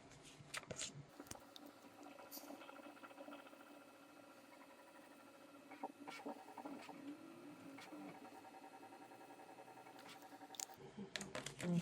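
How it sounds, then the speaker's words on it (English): A 3D printer whirs and ticks steadily, its motors producing irregular mechanical clicks and faint tonal whines in a quiet room. "I do apologize if you can hear my 3D printer"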